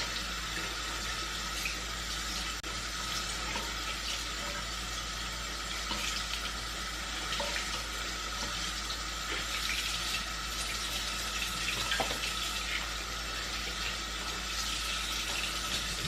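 Tap water runs steadily into a sink while a makeup sponge is rinsed under it, a continuous close splashing hiss lasting throughout with no talking.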